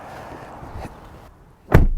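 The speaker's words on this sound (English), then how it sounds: "I really like the way this door sounds when you close it." A Lexus ES350 car door shuts with a single solid, close thump after a few faint handling sounds.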